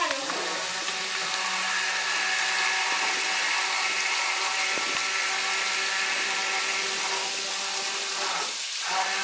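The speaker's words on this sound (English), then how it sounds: "This is an immersion blender." An immersion blender's continuous high-pitched motor whirs steadily nearby without pause, with a slight change near the end.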